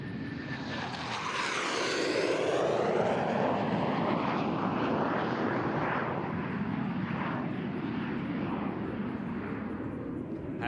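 Two Blue Angels jets, numbers 5 and 6, sweep past the flight line at an air show at 400 miles per hour, a loud continuous roar that swells and shifts in pitch as they pass, holding strong for about ten seconds.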